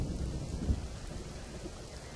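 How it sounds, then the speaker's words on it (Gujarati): Heavy, unbroken rainfall during a storm in Surat district, Gujarat, a dense steady roar with a low rumble of thunder swelling briefly near the start, no voices. "સુરત જિલ્લામાં પણ અવિરત ધોધમાર વરસાદ."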